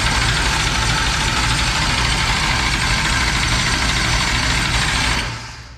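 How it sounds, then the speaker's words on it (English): A race car engine runs steadily at a loud, rough idle right up close, a dense continuous roar that holds evenly for about five seconds and then cuts off and fades away. "So we're gonna fire it up and let it run a minute."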